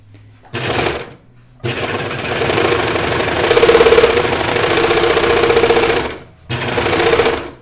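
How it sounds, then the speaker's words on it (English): A sewing machine stitches thick flannel for a sweater, running in loud steady whirring bursts: a short burst, a long continuous run with rising speed, and another short burst, separated by brief pauses. "This is a little thicker, so I need to put that under my presser foot."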